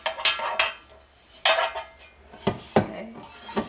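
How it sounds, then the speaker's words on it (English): Metal loaf pans being oiled and handled, giving several sharp clanks and knocks spaced across the moment with scraping rubs between them, close and fairly loud with no talk. "Oil your loaf pans real good all the way around on the sides and on the bottom."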